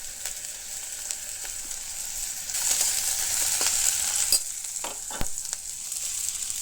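Chillies frying in a little hot oil for a mutton curry, a steady close sizzle with crackling spits and a few sharper pops and stirring scrapes, no talk.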